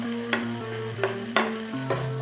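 Chopped garlic being sautéed in a pan for a vegetable stew, with a steady soft sizzle under music-like tones and a few sharp stirring scrapes at intervals.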